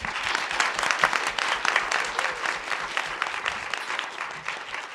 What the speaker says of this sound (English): let's just have one more round of applause for our panel who came from far and wide